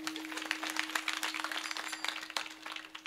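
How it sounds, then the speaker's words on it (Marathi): An audience claps at a religious festival marking a saint's death anniversary and chariot procession, with scattered, moderately faint applause sustained throughout over a steady background hum. "त्यांच्यासाठी टाळी होऊ दे एकदा"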